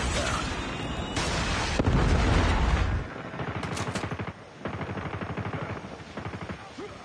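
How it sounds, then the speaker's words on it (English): A predator missile strike in Call of Duty Warzone: a loud, heavy rumbling blast for about three seconds, then a steady stream of rapid crackling gunfire-like pulses. "Friendly predator missile inbound."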